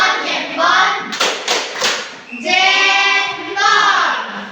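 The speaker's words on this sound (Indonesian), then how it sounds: "mari kita tepuk jempol untuk kelompok 1" A classroom group performs the tepuk jempol thumb-clap, chanting in unison between bursts of voice. A short run of sharp, close claps sits in the middle of the sung rhythm.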